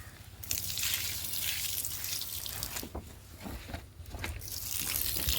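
Liquid fertilizer mix is poured from a container onto the base of a banana plant, a continuous splashing trickle with scattered drips, moderately close and steady throughout.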